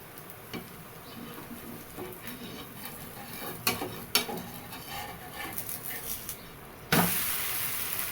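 A semolina and poha dosa batter sizzles faintly on a hot pan over a full flame, with soft scattered crackles and a few ladle taps, then a sudden louder hiss near the end.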